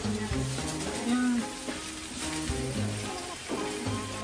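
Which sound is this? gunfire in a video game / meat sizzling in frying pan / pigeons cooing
meat sizzling in frying pan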